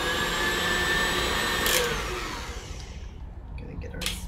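An electric mixer whirs steadily as it beats vegan Swiss meringue buttercream with chocolate. The even motor hum runs close and loud, then winds down and fades near the end.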